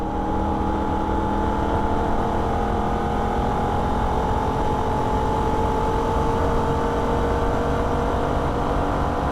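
A Holden VF Ute at wide open throttle in fourth gear on the Nürburgring, its engine a loud, close, sustained roar with a steady pitch and no pauses.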